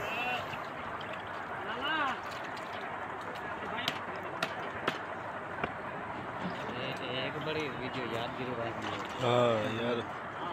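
Fish pieces being washed by hand in water with salt and vinegar: intermittent sloshing, gurgling and dribbling with a few sharp clinks, close by, with voices talking in the background.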